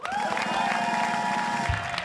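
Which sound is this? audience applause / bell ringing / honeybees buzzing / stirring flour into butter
audience applause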